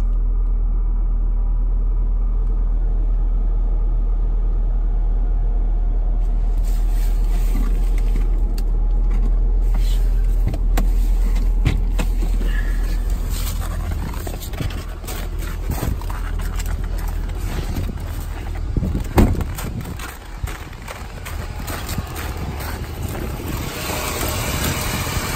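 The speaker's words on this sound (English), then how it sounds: "There is the cold start on the GTI." Volkswagen GTI engine on a cold start, settling into a steady, slightly rough idle with a constant low rumble, close by and uninterrupted by talk.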